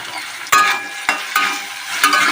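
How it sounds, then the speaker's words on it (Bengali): Semolina (suji) fries in a pan while being stirred, with a soft continuous sizzle broken by four sharp scraping strokes of a spoon, close and fairly loud, no talking. "ভেজে নিচ্ছি"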